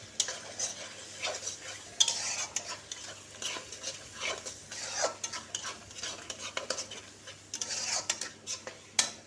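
Ground cashew, poppy seed and black and white mustard paste cooking in oil in a pan, a soft continuous sizzle broken by frequent close spoon scrapes and taps; no speech.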